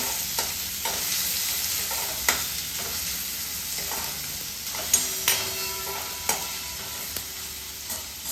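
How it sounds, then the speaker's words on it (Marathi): Onion frying in oil in a pan for palak paneer, a soft steady sizzle punctuated by the clinks and scrapes of a spoon stirring against the pan, close up. "आपला कांदा शेकतोय आहे"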